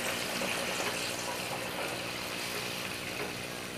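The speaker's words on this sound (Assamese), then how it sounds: "এতিয়া মই ইয়াতে গৰম পানী দিম" Hot water pours into a pot of raw banana curry, a steady soft splashing rush that runs almost unbroken and fades slightly at the end.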